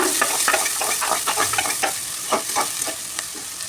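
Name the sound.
chopped onions sautéing in a pan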